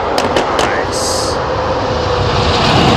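Airliner engines roar steadily on approach to Heathrow, a loud, continuous broadband rumble with power being added, while a few sharp bursts and voices occur in the background.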